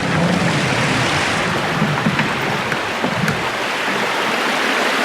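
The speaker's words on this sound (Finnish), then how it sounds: "Karkaankurun puro." A stream in Karkaankuru gorge rushes and burbles over rocks, a constant, fairly loud broadband flow with no voices over it.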